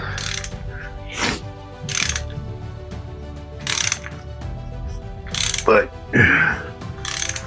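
A short ratchet clicks in several quick bursts while tightening the lower pulley bolt on an LS3 engine being swapped into a Crown Vic, close and crisp, with brief metallic knocks and a person speaking a little.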